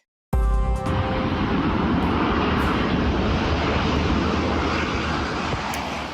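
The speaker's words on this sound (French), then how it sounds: "Ça, ce qu'on voit, c'est un avion-citerne faire le plein d'eau dans la rivière Miramichi." A water bomber tanker plane scooping water from the Miramichi River during New Brunswick forest fires gives a loud, continuous broadband engine roar that starts abruptly and holds steady throughout, with no voices over it.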